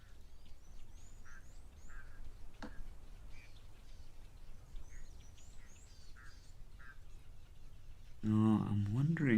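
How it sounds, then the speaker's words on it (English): Guinea fowl arriving at an African waterhole give repeated short, faint calls over soft outdoor ambience, and a person talks near the end. "That's a guinea fowl coming in."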